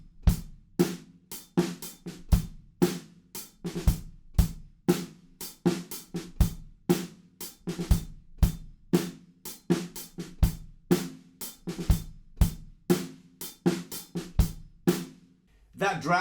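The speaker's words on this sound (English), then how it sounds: "So the groove that you're going to play in the verse sounds like this." A drum kit plays a steady verse groove, with a regular pattern of sharp kick and snare hits and hi-hat strokes running continuously for about sixteen seconds, close and unaccompanied.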